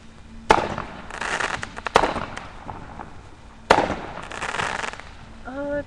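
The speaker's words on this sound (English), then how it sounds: "My neighbors are shooting off fireworks." Neighbors' July 4th fireworks go off nearby in three sharp booming bursts, each followed by crackling, and a voice cries out briefly at the end.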